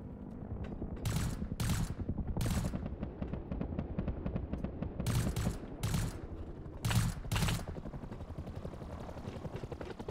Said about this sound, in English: They're shooting at us right now.